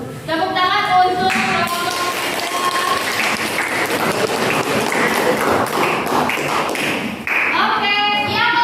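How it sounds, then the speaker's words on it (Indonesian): Audience applause after a group's classroom presentation in an Indonesian teaching practice session, dense steady clapping filling the room for several seconds with brief voices at the start and end. "Tepuk tangan untuk"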